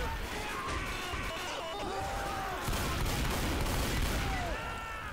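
Gunfire in Left 4 Dead 2 during survival mode: dense, continuous volleys of shots and crashing impacts fill the scene, with no pause between bursts, loud and close.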